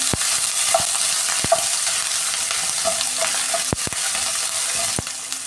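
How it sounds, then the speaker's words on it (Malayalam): Ginger and garlic fry with coconut in a hot pan for a beef curry, giving a steady close sizzle broken by sharp clicks of a spoon stirring and scraping against the metal. "ഇനി ഈ ഇഞ്ചിയും വെളുത്തുള്ളിയും ഇട്ട് കൊടുക്കാമേ."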